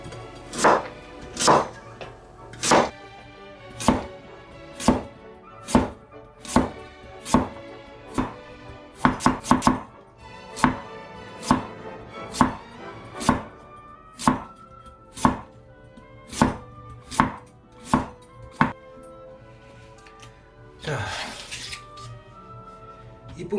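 A knife chops food on a cutting board in about twenty loud, evenly spaced thuds, pausing briefly near the end before a quick burst of faster cuts.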